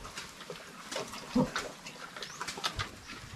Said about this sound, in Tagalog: Yan po ang ating mga baboy dito.